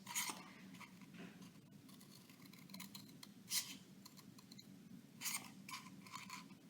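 Scissors snipping short, fairly uniform quarter-inch slits into paper for a dandelion painting craft, a few crisp close cuts spaced apart over a soft steady background hiss.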